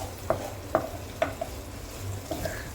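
Vegetables stir-fried with crushed ginger and garlic in a hot pan, with a low sizzle under a handful of sharp spatula taps spaced about half a second apart, close by and with no talking.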